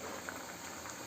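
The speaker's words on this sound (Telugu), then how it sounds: "చూసారా ఎంత బాగా మరుగుతుందో." Lentil dal with coriander boiling in a pot, a steady close bubbling and gentle popping that carries on evenly without pause.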